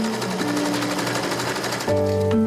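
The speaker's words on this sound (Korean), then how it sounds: "안감과 겉감 1차 미팅 마쳤다면 재봉틀과 조우할 시간이에요" A sewing machine stitches a cloth face mask of washed cotton, joining the lining and outer layers, with a steady, close mechanical whir that briefly shifts in pitch as the stitching speeds up.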